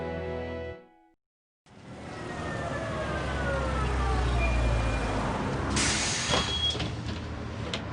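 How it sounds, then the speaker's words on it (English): A bus pulls up with a deep rumbling engine and the whine of slowing, then a hiss of air brakes and the doors sliding open, loud and close after a brief silence. "Here she is, catching the bus."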